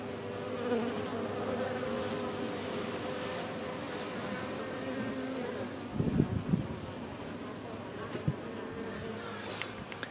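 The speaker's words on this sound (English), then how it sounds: "there's an awful lot of bees" Dense, continuous buzzing of a large swarm of bees close by inside a hive box, steady throughout with a few brief knocks partway through.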